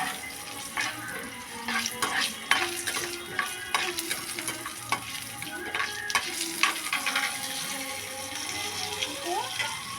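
Urad dal, mustard seeds and cumin seeds sizzle in hot oil in a pan while a spoon stirs and scrapes, with faint clinks and some running water in a home kitchen.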